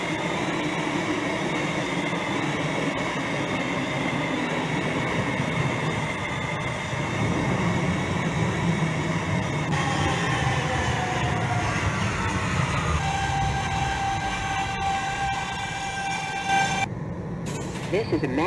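A simulated New York N subway train in the OpenBVE game runs along the Astoria line with a steady rumbling, whining motor drone and rail noise that shifts in pitch as it moves, with announcements spoken over it.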